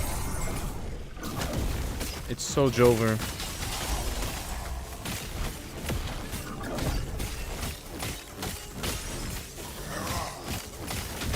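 Crystalline shattering effects from a Last Epoch battle, sharp breaking crashes and bursts layered over busy combat noise, with people talking throughout.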